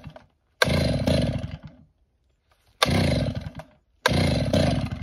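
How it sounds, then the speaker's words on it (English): Chainsaw during tree removal in Croatia, revved in three loud bursts separated by short silences, close and harsh, with no talking. "Couldn't start the chainsaw."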